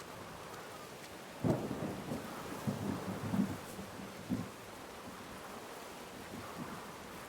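Steady heavy rain and low rumbling thunder during a storm in the video game Whispers of a Machine, a constant hiss of rainfall with a few deep thunder rolls swelling and fading, no voices.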